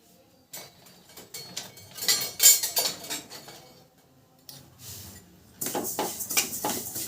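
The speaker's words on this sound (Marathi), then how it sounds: "कढईमध्ये आपण जरासे तडतड येऊस्तर त्यांना भाजून घेऊया" Sesame seeds roasting dry in a kadhai over medium gas, with bursts of crisp crackling and clinking stirring against the metal pan, alternating with brief quieter pauses.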